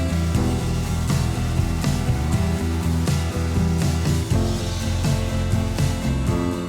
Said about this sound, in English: I went over to my belt sander